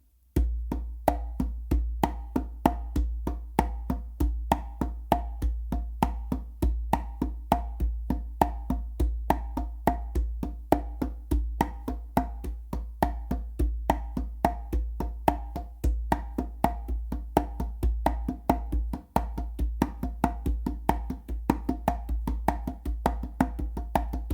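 Conga drums play a steady pattern continuously, with sharp slaps cutting through deep, resonant open tones in a driving, repeating rhythm.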